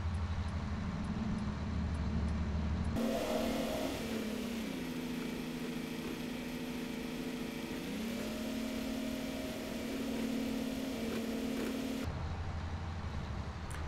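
Large farm vehicle in Farming Simulator 22, a steady droning engine whose pitch dips and then climbs again as it drives, close and continuous, with no talking.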